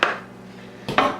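A greased metal baking loaf pan is handled in a kitchen, giving two short clanks roughly a second apart with a quiet pause between them.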